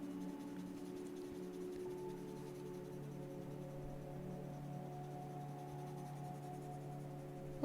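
A Faber-Castell pen sketches on paper in a quiet room, leaving faint, soft scratching strokes beneath a steady low background hum.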